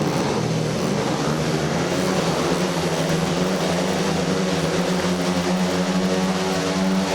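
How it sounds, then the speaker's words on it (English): Several speedway motorcycles rev their engines at the start gate before a championship heat, a loud, continuous, droning roar that holds steady throughout. "Bikes pick up the revs then."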